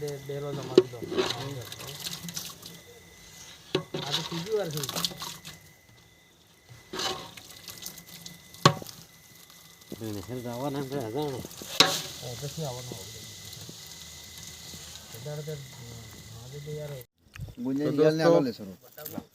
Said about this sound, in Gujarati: બુંદી પડી ગઈ છે અને વાગે છે અત્યારે રાતના એક અને મખાઈ ખાઈ છે ભજીયા આ બધું લાઈવ ભજીયા પડે છે તમને દેખાડું